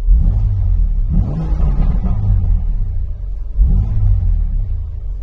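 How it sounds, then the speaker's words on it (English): A car engine gets a few short, gentle revs, and each one rises as a low rumble over a steady idle, loud and close, with no talking. "I want to give it like a tiny rev."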